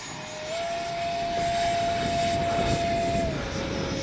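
Small Arrows 50mm EDF T-33 RC model jet flying overhead outdoors, a steady high-pitched ducted-fan whine that rises in pitch and stays loud for about three seconds before easing slightly, with no talking.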